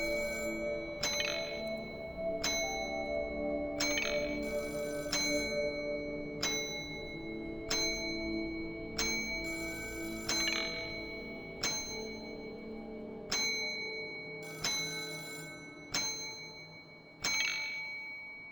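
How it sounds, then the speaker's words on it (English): A hotel service bell in the game Deep Sleep is struck about a dozen times at a slow, even pace, each bright ding ringing out and fading before the next, with a low ambient drone underneath. "A standard hotel bell used to summon staff."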